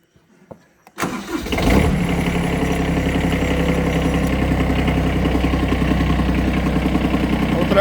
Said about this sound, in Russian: Давайте сейчас запустим трактор.